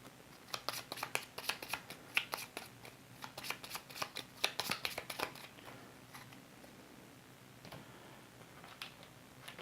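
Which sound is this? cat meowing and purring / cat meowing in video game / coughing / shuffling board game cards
shuffling board game cards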